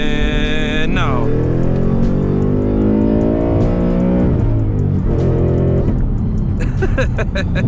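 A car engine with an MT-82 manual gearbox revs hard at full throttle, its pitch climbing and falling through gear changes, loud and close throughout, with a voice audible over it.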